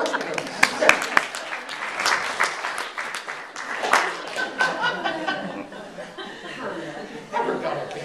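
An audience at a talk claps loosely for several seconds, with scattered chuckles and laughter mixed into the uneven applause.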